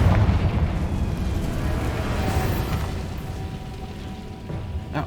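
The Confringo fire spell from Hogwarts Legacy explodes with a loud, dense boom that rolls into a crackling, fizzing tail and fades gradually.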